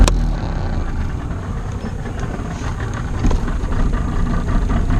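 A boat engine with a freshly rebuilt carburetor idles at about 500 RPM, a steady low, rough rumble heard up close and fairly loud for several seconds, with no talking.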